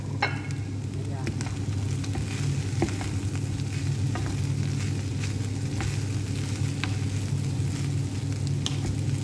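Cooked rice fries in a hot pan for fried rice, a steady close sizzle with scattered scraping stir clicks throughout, loud and continuous.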